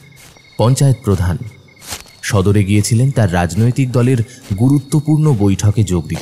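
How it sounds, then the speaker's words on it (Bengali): Crickets chirp in a dark forest at night, a steady, thin high trill running quietly beneath a man's continuous speech. "জঙ্গলের ঝিঝি পোকার ডাক"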